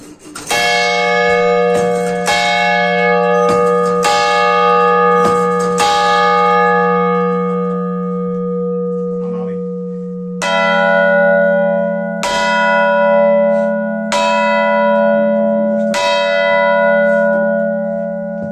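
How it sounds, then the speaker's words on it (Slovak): Two big clock bells of the Cathedral of the Holy Trinity in Žilina, Slovakia, ring loudly and slowly, deep tolling strikes with long ringing hum between them, first one bell then a second pitched slightly differently. "toto sú dva hodinové zvony v katedrále Najsvätejšej Trojice"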